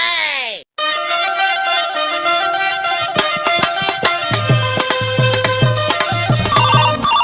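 A telephone rings with a repeating electronic tone that runs continuously and loudly, joined partway through by a rhythmic musical ringtone pattern with beats.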